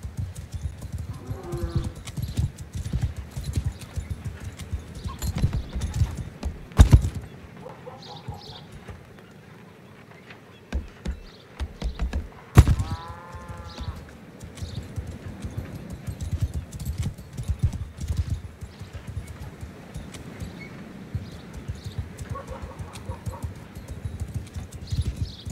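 Horse hooves clip-clop steadily in the video game Mount & Blade II Bannerlord, a continuous close trotting rhythm with a couple of sharp clicks and faint bird chirps, no talking.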